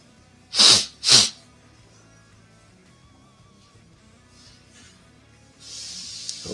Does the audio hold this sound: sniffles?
yes